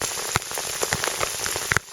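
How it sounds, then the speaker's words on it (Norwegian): Heavy rain pours on the Hardangervidda plateau, a dense, close, steady hiss with scattered sharper drops striking a nearby surface and no voices. "Det regner, og det regner, og det regner."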